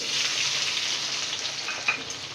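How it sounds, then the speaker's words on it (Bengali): Chopped onions fry with cumin and a few fenugreek seeds in hot oil, a steady close hiss of sizzling that holds evenly throughout with one faint tap and no voices. "পেঁয়াজটা ভালো করে ভেজে নিতে হবে"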